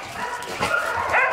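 A puppy gives a couple of short yips and whiny barks close by, brief and high-pitched.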